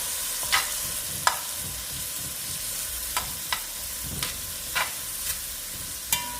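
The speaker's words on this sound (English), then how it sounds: "Scallion, onion and garlic to the pot. Just tossing it around a little bit." Scallion, onion and garlic are tossed in warm butter in a pot, giving a soft, steady sizzle broken by a few sharp utensil clicks and scrapes at irregular intervals.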